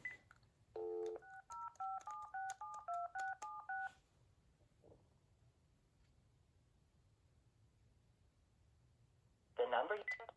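DTMF dialing tones for a ringing test on a Panasonic or Uniden 2.4GHz digital cordless phone: a rapid run of about ten distinct beeps, then quiet room hiss and a short final tone burst.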